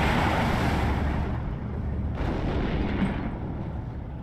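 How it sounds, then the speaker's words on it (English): Artillery fire in the World War II strategy game Steel Division 2, heard as a steady, dense roar of distant rumbling blasts that swells and fades slightly, with no voices over it. "He gets some artillery of his own now."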